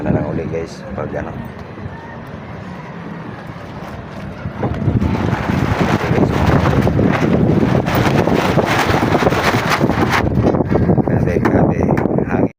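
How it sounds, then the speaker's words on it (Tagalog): Strong wind roars across the microphone at an outdoor construction site, a rough, loud buffeting that grows harsher about midway and stays heavy to the end. "Grabe hangin guys."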